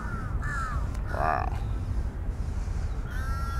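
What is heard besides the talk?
crows cawing in Lumpini Park, Bangkok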